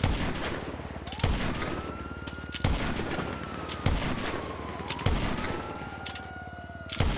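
Gunfire in GTA Online during a 1v1 match: four or five sharp, loud single shots spaced about a second apart, each leaving a ringing tail, with a rising and falling whistle-like tone between them and no talking.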